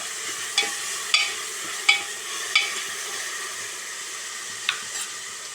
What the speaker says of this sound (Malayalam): അതിലേക്ക് പച്ചമുളക് അരിഞ്ഞതിടുക തക്കാളിയും ഇടുക ഇവ നന്നായി വഴറ്റുക